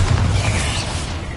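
A Bombarda explosion spell in Hogwarts Legacy lands as a single loud, low boom that rumbles and fades over a second, close and heavy.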